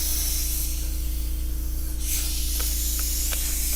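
Airbrush leaking air during T-shirt painting, giving a steady, continuous hiss over a constant low hum, with a few faint clicks near the end and no talking.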